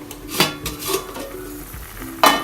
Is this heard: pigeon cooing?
no